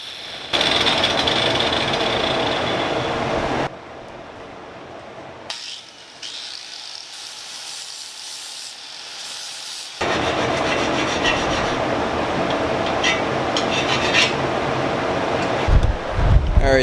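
Harsh, loud grinding down of a metal dowel pin in long bursts, broken by a pause with quieter motor hum before the rough grinding resumes.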